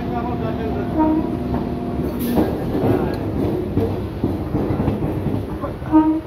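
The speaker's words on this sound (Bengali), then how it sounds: "লোকাল ট্রেন দাঁড় করে দিয়েছে একটা মেল ট্রেন পাস করানোর জন্য।" A mail train rumbles past a halted local train at an Indian railway line, a close, loud continuous clatter and roar of wheels on track with a brief horn-like burst, while people talk nearby.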